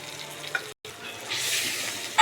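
Water splashes into a cooking pan of frying spices with tomato, turmeric, cumin, coriander and Kashmiri chilli powder, a broad hissing wash rising after a brief gap and holding steady to the end.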